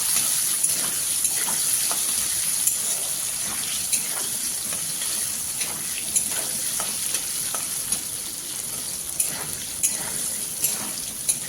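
Potatoes coated with turmeric and chili powder fry in hot oil with a steady, close sizzle and crackle, broken by faint stirring scrapes throughout.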